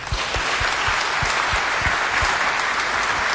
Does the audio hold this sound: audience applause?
yes